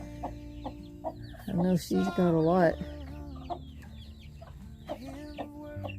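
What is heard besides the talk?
chickens clucking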